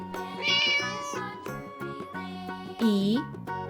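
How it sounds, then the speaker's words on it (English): A cartoon cat meows in a children's alphabet learning video, one rising-and-falling meow near the end over bright, tinkling background music. "cat."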